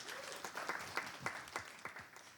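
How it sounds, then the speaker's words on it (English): Small audience clapping, a faint scattering of individual claps in an uneven rhythm, sparse and fairly distant. "You gotta give yourself a round of applause for even making it here today"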